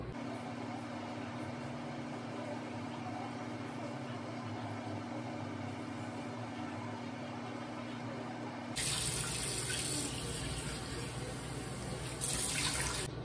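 Tap water runs steadily into a sink while a face is being rinsed, a continuous close splashing flow that grows louder and brighter partway through.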